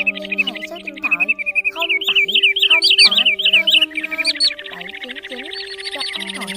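Common greenshank call recording: loud, clear, repeated piping whistles in rapid bursts of rising-falling notes, layered over other chirps and a steady electronic tone.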